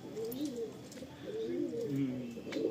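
Pet pigeons coo close by in soft, repeated rolling phrases that rise and fall in overlapping waves, with no talking.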